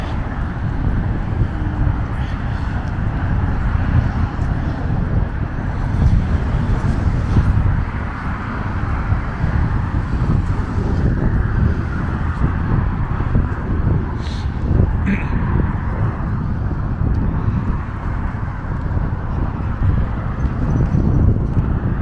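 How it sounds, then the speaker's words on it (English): Wind buffets the microphone on the Brooklyn waterfront beside an ice-jammed New York harbor, a constant loud low roar that holds steady throughout with no voices. "It's kind of windy down here."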